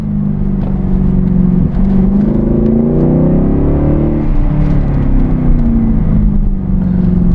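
Car engine in sport mode through an abrupt gear change, a loud, close, continuous drone whose pitch climbs, drops sharply at the shift and climbs again, with an automatic throttle blip on the downshift, no talk.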